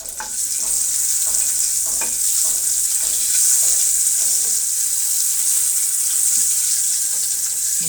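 Eggs scored with a knife fry in a pan and get stirred for an egg and potato dish, making a loud, constant hiss with soft rhythmic scraping under it.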